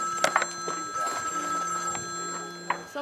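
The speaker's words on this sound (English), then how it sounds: "Someone's phone." A mobile phone rings in a room, a steady repeating electronic tone running throughout the moment, with brief voices and small clatters over it.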